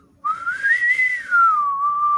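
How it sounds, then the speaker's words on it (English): A singer whistles a smooth, continuous run of notes that rises and falls in a bright, clear tone, heard alone with no talking. "She whistled a run, you guys."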